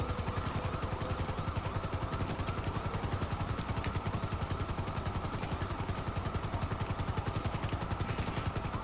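Helicopter flying in GTA 5 gives a steady, fast rotor chop with a dense engine whine, constant and fairly faint, holding an even rhythm from start to finish with no voices over it.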